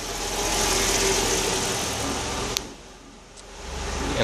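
A Mercedes engine idles steadily just after start-up with a throttle body test underway, a constant mid-pitched hum with a brief click partway through and the note dipping slightly before it recovers.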